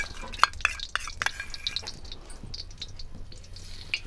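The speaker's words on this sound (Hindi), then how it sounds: "इसमें हम डालती हैं देसी घी" Desi ghee hits a heated kadhai while carrot barfi is being made, giving a steady run of small crackling ticks and drips, close and moderately loud, with no voice over it.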